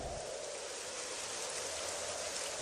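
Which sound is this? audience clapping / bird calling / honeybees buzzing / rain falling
rain falling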